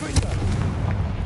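A Confringo blasting spell going off in Hogwarts Legacy on PS5: one sharp boom near the start, then a rumbling low tail that lingers for about a second under faint background game ambience.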